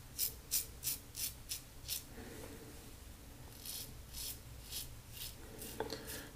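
Soft, rhythmic razor strokes buffing lightly over slick Captain's Choice shaving cream, about a dozen quiet rasping passes in quick runs with short pauses between them, close and faint.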